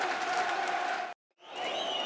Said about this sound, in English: Good applause for it,